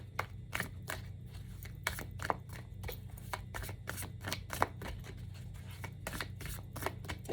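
An oracle card deck is shuffled with a steady run of crisp, rhythmic riffling and snapping, close and clear, with no talking.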